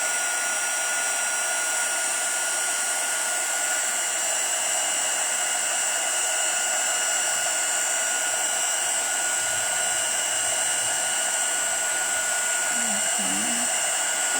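An embossing heat tool melting copper embossing powder on a handmade card, a loud, steady blowing hiss that runs unbroken from start to finish, close to the microphone.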